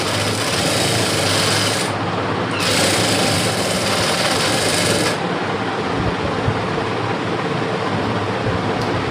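Sewing machine stitching a 36-inch lined blouse, running steadily and loudly for the whole stretch with brief changes in pace, no talking.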